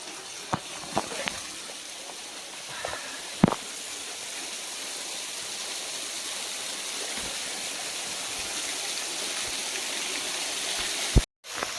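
Tumiis Falls, where children bathe, a steady broad rush of falling water heard close and continuous, with a few faint knocks and handling bumps over the roar.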